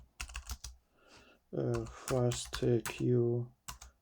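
Quick clicks from a computer keyboard as a command is typed come in short bursts before and after a stretch of close spoken words.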